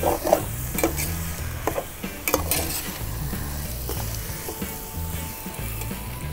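Sheep blood frying in a pan, a steady close sizzle broken by repeated stirring scrapes and light clinks of a utensil against the pan.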